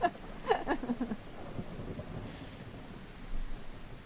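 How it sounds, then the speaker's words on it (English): Video game rain and thunder in a dark night scene: a steady hiss of rainfall with a low rumbling roll, fairly faint and continuous. "welcome back to the rain and the darkness"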